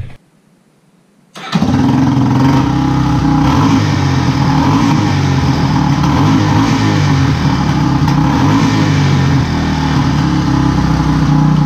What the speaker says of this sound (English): There's not bogging at throttle anymore.